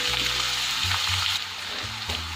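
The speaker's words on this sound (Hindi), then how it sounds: "प्याज को हमें थोड़ा सा फ्राई करना है।" Finely chopped medium-sized onion frying in a pan, a loud steady close-up sizzle with a faint low hum beneath and no talk.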